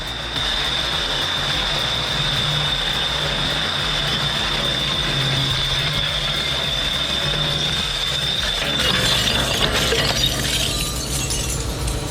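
Glass is crushed in an industrial shredder, producing a dense continuous grinding crunch with a steady high mechanical whine and rattling that swells slightly near the end, loud and close with no talking.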